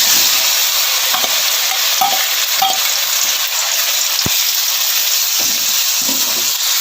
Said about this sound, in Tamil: அந்த இட்லியை வந்து நம்ம நல்லா வறுத்து எடுத்துக்கலாங்க.